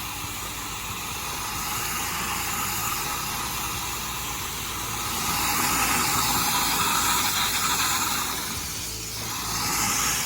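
A pressure washer running with a steady engine drone and broad hissing spray while soap works through the line onto a dirty vinyl fence, loud and continuous with slight swells.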